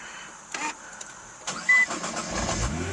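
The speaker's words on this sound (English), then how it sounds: "You hear the clutch engage" A 2009 Nissan GT-R starts up, its clutch engaging with a few soft mechanical clunks and a brief electronic tone before the engine settles into a low, rising idle rumble, close and fairly quiet.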